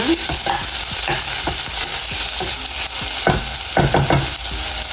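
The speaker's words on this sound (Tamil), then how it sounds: "ஒரு மீடியம் சைஸ் தக்காளி பழம் அதையும் போட்டு நல்லா வதக்க போகிறேன்" A medium-sized tomato sautéed and stirred in a frying pan for a soya meat curry, with a steady loud sizzle throughout and repeated scraping strokes of a spoon against the pan.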